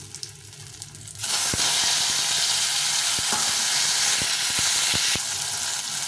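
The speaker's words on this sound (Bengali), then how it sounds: "দুটো তেজপাতা দিলাম, দিয়ে এই টমেটোটাকে ভেজে দেবো।" Tomato frying in hot oil with two bay leaves, cumin and cloves, a loud steady sizzle bursting in abruptly and holding strong, with a few sharp ticks and pops throughout.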